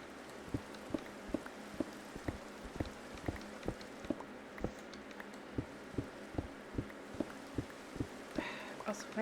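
Rain falls in the video game Minecraft, a steady soft hiss with regular, distinct drip ticks pattering at an even pace throughout, fairly quiet and uninterrupted.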